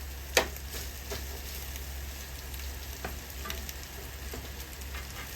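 Pork sizzling and frying in a hot pan for a stir-fry with egg, a steady crackling hiss with a few sharper pops, close and continuous without talk.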